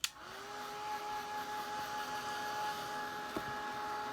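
A hair dryer clicks on and blows with a steady whirring tone over a Mod Podge napkin craft, running close and continuous with a brief bump partway through.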